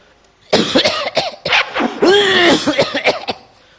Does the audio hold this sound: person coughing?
yes